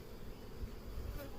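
Honeybees hum densely around an acacia honey hive during a harvest of the honey supers, a steady close buzzing swarm with no voices.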